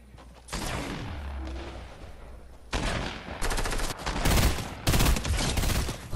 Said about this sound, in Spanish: ¿de dónde me disparan?